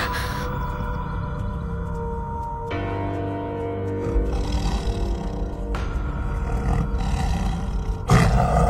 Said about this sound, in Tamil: புலி போகுது